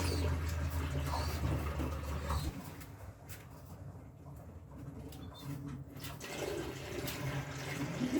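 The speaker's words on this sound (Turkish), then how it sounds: "azar azar sularımızı ekliyoruz" Water is poured little by little into a drinker for young pigeons, a soft continuous trickle and splash close by. Pigeons coo faintly in the background.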